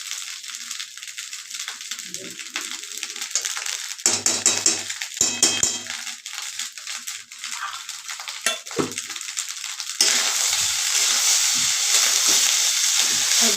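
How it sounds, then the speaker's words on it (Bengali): Rice is stir-fried in ghee in a pan, with a continuous sizzle, scraping and clattering of the spatula in uneven bursts, and a louder, steadier hiss in the final seconds. "ভালো করে নাড়াচাড়া করে আরেকটু ভেজে নেব।"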